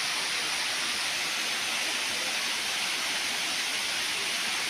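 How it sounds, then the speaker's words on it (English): Elephant Falls waterfall in a scenic outdoor setting, a steady broadband rush of falling water that continues evenly throughout with no voices over it. "So see that beautiful beauty of the Elephant Fall. The waterfall is so nice,"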